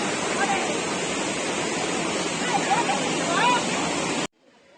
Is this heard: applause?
no